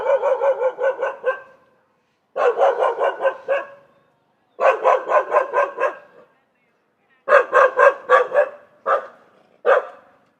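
A stray soi dog on a Bangkok street barks in rapid, close bursts, several quick barks per volley with short pauses between them, ending in a few single yaps.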